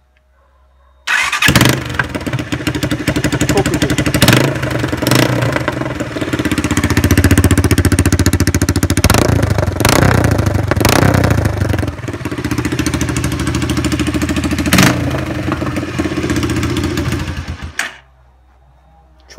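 A motorcycle with its exhaust muffler removed starts up and runs with a loud, harsh, raw roar, several sharp revs rising above a continuous rattling drone before it cuts off; someone speaks briefly.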